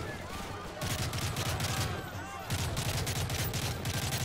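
Gunfire in the airport level of Modern Warfare 3, a video game: sustained, dense bursts of shots that run continuously with a brief dip near the middle, with a voice faintly audible underneath.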